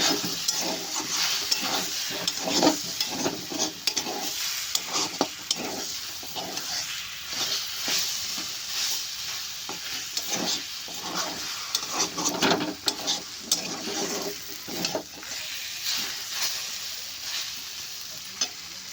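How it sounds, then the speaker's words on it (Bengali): Taro stolons fry with roasted cumin-coriander powder while a spatula stirs and scrapes the pan in repeated strokes over a constant close sizzle, fairly loud with no talking. "এটাকে আবার একটু নাড়াচাড়া করে নেব ভালোভাবে"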